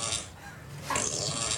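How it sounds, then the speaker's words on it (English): A Lego Boost robot plays a fart sound effect, a short, fairly loud raspy burst that swells near the end and stands alone with no talk. "If you have one of these at home, there's going to be a lot of farting noises"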